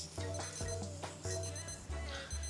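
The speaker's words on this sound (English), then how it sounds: "My timer is telling me that that's 15 minutes." A kitchen timer beeps repeatedly in a steady electronic pattern, fairly loud and close, with soft background kitchen sounds.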